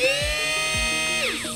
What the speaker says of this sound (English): if it is in speed number one, it sounds something like this